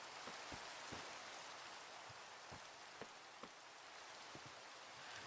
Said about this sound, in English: It rains too much on this server.